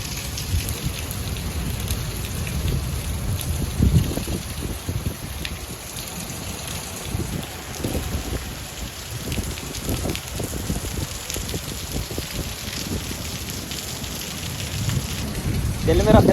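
A heavy downpour in Gujarat drums steadily on nearby surfaces with a dense, continuous patter, while a voice talks intermittently over the rain.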